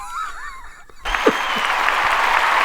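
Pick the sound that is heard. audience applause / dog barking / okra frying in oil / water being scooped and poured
audience applause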